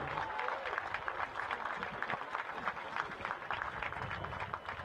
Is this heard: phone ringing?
no